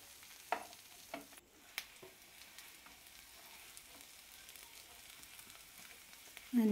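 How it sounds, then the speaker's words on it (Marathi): Potatoes sautéing in ghee for a potato shira, a faint, quiet sizzle with a few sharp clicks of a spoon against the pan, and a louder scrape right at the end. "तूप टाकून याला छान परतून घ्यायचं।"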